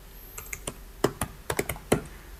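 Fingers tap a run of keys on a computer keyboard while entering bank details into point-of-sale software, a handful of crisp, close clicks arriving irregularly over quiet room tone.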